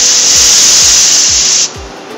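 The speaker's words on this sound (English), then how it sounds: "an OSHA approved blow-off gun with adjustable airflow control" An OSHA-approved compressed-air blow-off gun with adjustable airflow control gives a loud, steady hissing blast that cuts off abruptly near the end, with faint low thumps underneath.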